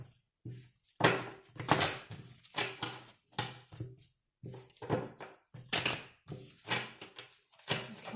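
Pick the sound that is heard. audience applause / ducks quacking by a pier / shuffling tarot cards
shuffling tarot cards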